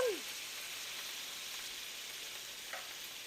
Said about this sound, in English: So now I am going to fry the shrimp